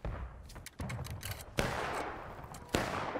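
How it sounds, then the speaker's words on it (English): Video game gunfire, with several sharp shots and short bursts spaced irregularly against a quieter background of battle ambience. "I was shooting at them."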